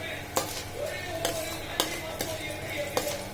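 Urad dal sautéing in a pan with asafoetida and salt, a spoon stirring and tapping the pan in regular strokes over a steady low sizzle.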